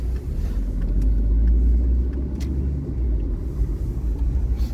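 Cars pass by on a road in Przysucha, Poland, a steady loud traffic rumble swelling and easing over several seconds, heard up close without any talking.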